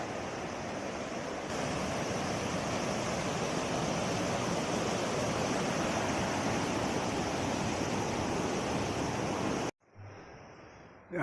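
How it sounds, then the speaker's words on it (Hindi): A village river in the mountains rushes steadily, a loud, continuous broadband flow of water heard close, cutting off abruptly near the end. "नदी में पहुंच गया हूँ मैं। ये हमारे गांव की नदी है।"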